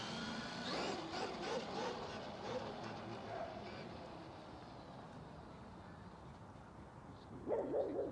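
A dog barks faintly amid a steady background rumble, with a slightly louder burst of barking near the end.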